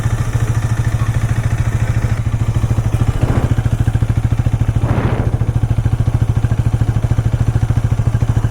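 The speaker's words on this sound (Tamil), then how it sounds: "இன்ஜின் சவுண்டும் எக்ஸாஸ்ட் நோட்டும் நம்ம வந்து பார்த்துடலாம் ஃபஸ்ட்டு" A Hero Xtreme 250R motorcycle engine idles steadily with a close, even exhaust beat throughout, rising in two short throttle blips near the middle before settling back to idle.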